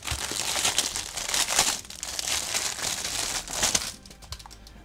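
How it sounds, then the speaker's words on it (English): The packaging of an X13 budget retro handheld, Black Dragon Edition, is crinkled and torn open close up, with loud bursts of plastic crumpling that come in waves and stop abruptly near the end. "let's do a quick ASMR moment with the wicked unboxing"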